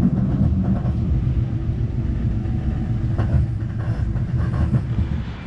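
A train rolling on its rails on the way to Sarajevo, Bosnia and Herzegovina, a loud steady rumble heard from inside with faint rhythmic clicks of the wheels and no voices.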